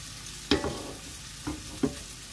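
Garlic fries in hot cooking oil for chicken fried rice with a low sizzle, punctuated by three distinct utensil knocks against the pan; no talking.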